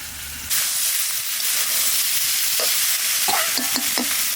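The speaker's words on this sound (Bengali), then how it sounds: "আলু কুমড়ো ভালো করে ভাজে নিলাম" Potato and pumpkin chunks frying in hot oil in a pan, a loud steady sizzle with stirring scrapes and clinks near the end, close by and with no voices.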